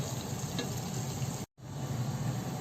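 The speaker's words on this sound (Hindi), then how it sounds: "अब प्याज को ब्राउन होने तक पकाएंगे।" Onions frying in a pan until brown for a restaurant-style chicken biryani, a steady close sizzle with a short silent break in the middle, no voices.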